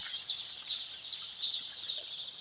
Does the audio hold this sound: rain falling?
no